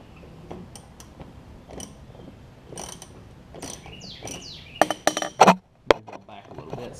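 Engine parts on a Craftsman LT4000 hauler tractor are tightened with a ratcheting tool. Soft intermittent clicks build to a few sharp metallic clinks and ratchet bursts near the end, close by, with quiet voice sounds in places.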